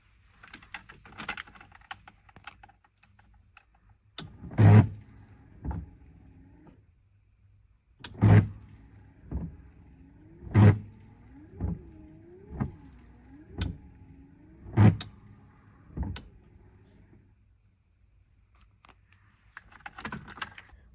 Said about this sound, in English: the wiper motor is controlled by this relay here